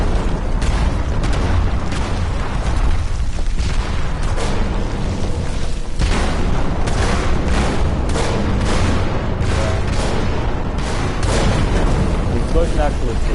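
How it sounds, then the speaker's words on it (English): Explosions and heavy gunfire crash through a Fallout 76 heist mission, loud booms and bursts stacked over game noise while people talk throughout. "Explosion actually pushes forward."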